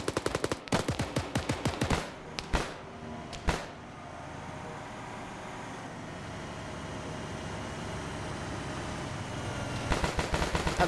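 Loud bursts of rapid automatic gunfire from a multiplayer shooter crackle close by, then give way to a steady vehicle-like rumble before another burst of shots returns at the end.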